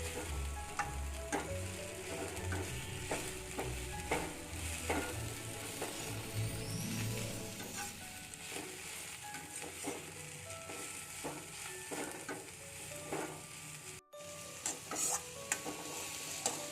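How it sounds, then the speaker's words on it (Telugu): Gongura leaves fry and get stirred in a pan for gongura pachadi, giving a steady, continuous sizzle broken by repeated scraping and stirring strokes, with no talking. "ఇంకొక 5 మినిట్స్ దీన్ని ఫ్రై చేద్దాం"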